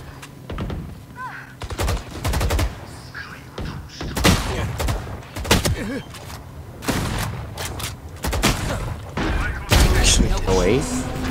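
Gunfire in the Valorant video game, sharp bursts of shots and rapid volleys scattered through the clip, loud and close, with players talking excitedly over the action.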